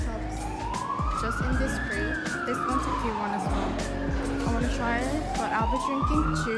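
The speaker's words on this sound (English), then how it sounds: "Sorry, that's the siren. It's quite noisy." A wailing siren sweeps slowly up and down over loud street traffic while a person talks over it close by.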